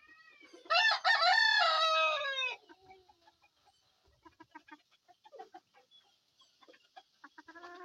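Chicken calling loudly and close for about two seconds, a harsh drawn-out squawk, followed by a run of soft, scattered clucks from the same bird.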